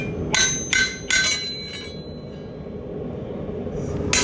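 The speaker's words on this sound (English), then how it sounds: "I'm going to shear metal out of that hole. I give it a good whack." A hammer strikes hot metal over an anvil's pritchel hole to shear it out, three loud ringing metallic blows in quick succession, each with a bright clanging decay, followed by quieter background hum.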